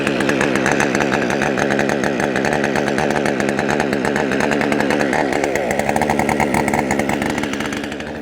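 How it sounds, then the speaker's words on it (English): A Jonsered 2253 chainsaw, a relative of the Husqvarna 550XP, runs at a fast idle with the chain brake engaged, a loud, steady, buzzing two-stroke drone close by that eases slightly toward the end. "I'm going to let the saw run there at a fast idle for, I don't know, maybe 20, 30 seconds"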